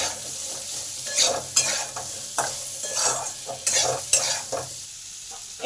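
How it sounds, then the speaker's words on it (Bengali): Potatoes stirred with salt and turmeric in a pan for a vegetable dish: a rhythmic series of scraping, clattering stirs over a soft background sizzle, close and moderately loud, with no talking. "নুন আর হলুদটাকে ভালো করে আলুর মধ্যে মিশিয়ে দিলাম।"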